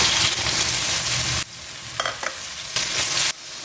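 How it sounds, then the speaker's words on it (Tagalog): Garlic, onion and tomato sauté in a pan for Filipino pakbet, a close, bright sizzle broken by a few stirring scrapes and sharp bursts as ingredients hit the oil. "So, igisa natin yung ating bawang. Lagyan natin ating sibuyas, kamatis,"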